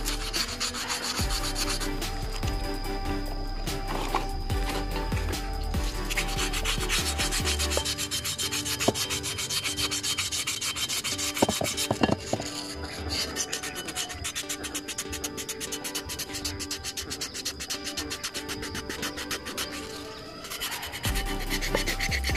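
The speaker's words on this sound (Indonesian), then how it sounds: "Teman-teman bisa gunakan amplas kasar." Continuous coarse rasping of coarse sandpaper rubbing back and forth, sanding old paint off a motorcycle, steady and close throughout with no voices.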